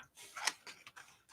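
Scissors snip through paper in an art journal, a few quiet, close cuts with a sharp crisp snap in the middle and softer clicks after, no talking.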